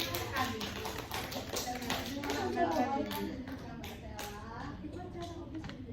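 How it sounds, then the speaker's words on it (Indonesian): A classroom group of schoolchildren claps hands together during a school counseling group-learning session, sharp irregular claps over excited children's voices and chatter. "Tepuk tangan semuanya."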